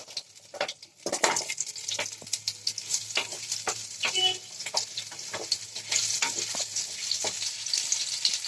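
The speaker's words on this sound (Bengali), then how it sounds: "তেল আমার গরম হয়ে গেছে, এবার আমি এতে দিয়ে দিচ্ছি আলুগুলো" Potatoes sizzle and crackle steadily in hot fish oil, with stirring scrapes and sharp spatters through the frying, fairly close and continuous.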